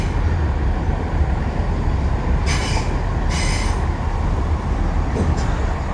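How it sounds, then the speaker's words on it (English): A train rumbles past in the gloom beside a fishing spot, a loud steady roar of wheels on rails with a couple of brief high squeals, filling the whole stretch. "Very atmospheric with another train rumbling by in the gloom."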